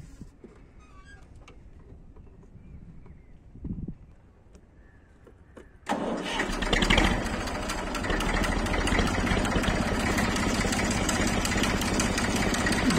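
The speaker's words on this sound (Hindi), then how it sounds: "ये हमारा मैशी फर्ग्यूसन 35, मैं अब अपने घर के लिए निकलता हूँ। मैं सुबह ही आ गया था खेत में, वो ट्रैक्टर की आवाज़ सुनना आप।" A Massey Ferguson 35 tractor on a sugarcane farm is heard first as a faint low hum, then it suddenly bursts into a loud, close, steady chugging engine run that continues to the end.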